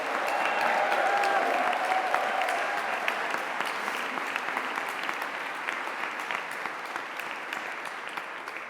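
Graduation ceremony audience applause in a hall, a sustained, even wash of many hands clapping that stays steady and gradually softens, with a brief voice near the start.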